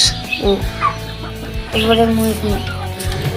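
Chickens cluck close by in short bursts, with a person's voice mixed in among the bird calls.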